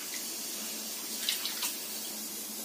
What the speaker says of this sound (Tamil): இப்போ நான் 2 கிளாஸ் பால் ஊற்றுனதுக்கு 1 கிளாஸ் தண்ணி ஊற்றுறேன்